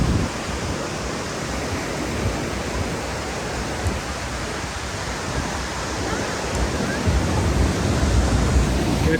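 Ocean waves at a beach in Bali roll in as a steady, full surf roar that swells slightly without letting up, with no clear voices.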